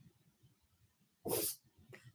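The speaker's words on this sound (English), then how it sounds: "That's my dog sneezing or snorting" A dog gives one sharp, close sneeze or snort, followed by a smaller second snort, while quiet breathing and faint background sounds fill the gaps.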